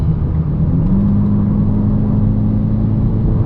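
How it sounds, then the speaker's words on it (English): Steady, loud engine drone from a VW Polo GTI on a long road trip, a low rumbling hum holding constant throughout with a faint rise in pitch near the start, with no voices. "Engine is already roaring."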